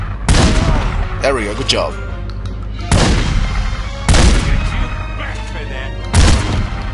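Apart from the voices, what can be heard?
shotgun fire in The Godfather PC video game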